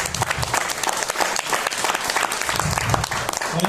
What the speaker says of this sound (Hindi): और ये जो आप तालियां बजा रहे हैं ना